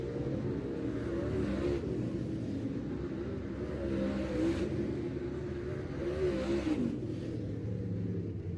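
Dirt late model race cars running at Farmer City Raceway in the Lucas Oil series, a steady distant roar of engines with rising and falling revs as cars pass, heard without talk.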